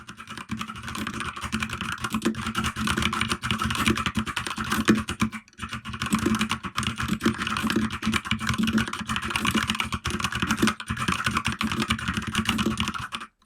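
Continuous fast typing on a Keychron K2 mechanical keyboard with red switches, dense soft clacks in a steady stream with one brief pause midway, close and fairly quiet.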